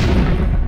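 A loud, dense burst of explosive noise from the game LEGO City Undercover, broadband and booming, filling the short moment before cutting off abruptly.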